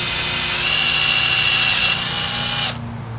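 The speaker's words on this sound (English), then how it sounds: "in this case Jerry, will drill out the barrel to break the seal on the capsule by inserting the 5/8 inch drill right in the mouth of the barrel and drilling down" A 5/8 inch drill bit bores steadily into the barrel of a tree inoculation capsule at a root flare, making one loud, close, continuous whine that cuts off abruptly just before the end.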